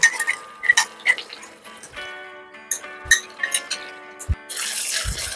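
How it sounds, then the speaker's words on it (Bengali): Water splashes into a pot to rinse out leftover yogurt mixture in a home kitchen, with clinks of metal and dripping near the end, some faint talk in the background. "সামান্য জল এই পাত্রটা ধুয়ে দিয়ে দিতে হবে।"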